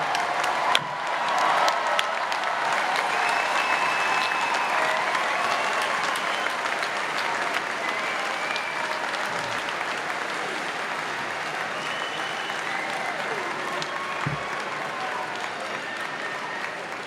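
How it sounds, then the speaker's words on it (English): Sustained audience applause fills a university commencement hall for the graduating full-time Texas MBA class of 2018, a broad, even wash of clapping with scattered cheers that holds steady and tapers slightly toward the end. "Please join me in a robust round of applause for the MBA class of 2018."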